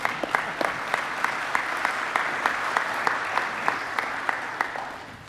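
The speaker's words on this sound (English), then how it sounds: "You can clap." An audience at a defense industry opening ceremony claps after a video, a continuous bed of applause with a few distinct, sharper individual claps popping out at a fairly regular pace.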